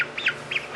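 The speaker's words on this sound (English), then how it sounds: "And this is my Araucanas Easter egg chickens" Young Araucana Easter egg chickens, several weeks old, give two short high chirps in quick succession, clear and fairly close.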